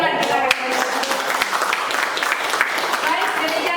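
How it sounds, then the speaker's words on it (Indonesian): Audience applause after a positive-culture dissemination session, short steady clapping from a room of people. "Tepuk tangan kita."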